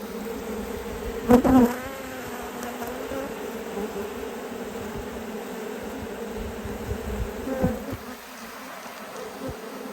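Honey bees buzzing steadily around an open hive during an inspection, a dense continuous drone close by with one louder individual buzz passing early on, and no talking.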